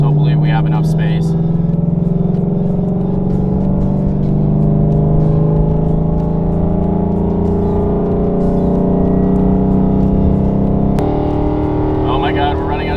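A 700 whp ProCharged Mustang engine climbs steadily to 5,000 RPM, a loud rising drone with a gradual pitch sweep that holds for about eleven seconds before easing off, with a supercharger whine layered on top.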